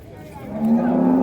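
A single calf or cow lets out a rising moo at a crowded bull market with calves and cattle, the call clear and close over a low murmur of background noise.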